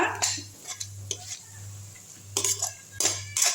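Dried anchovy thokku with garlic sautéed in a pan, heard as brisk scraping and clattering stirs in short bursts over a low steady hum, with a light sizzle.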